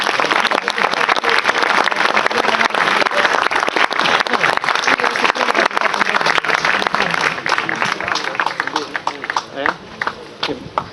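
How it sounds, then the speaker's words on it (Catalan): An audience at a tribute award ceremony applauds Teresa Clota with a dense, sustained burst of clapping that thins out toward the end, with a few voices mixed in. "Un aplaudiment, sisplau, per la Teresa"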